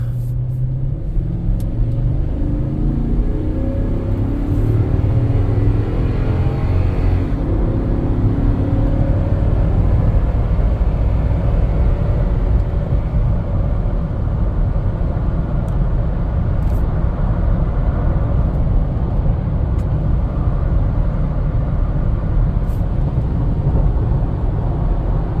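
Car on a quick test drive along an empty road, a steady, loud interior rumble of engine and tyre noise that holds constant throughout with no talk.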